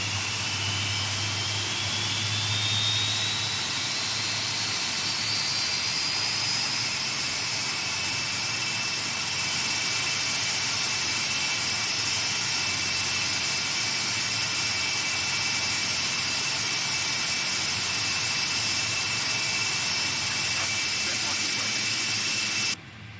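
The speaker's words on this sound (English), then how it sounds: "We should have all 4 engines started." All four jet engines of a PMDG 747 run steadily in a flight simulator, a continuous roar and whine with rising high tones, holding an even loudness for over twenty seconds.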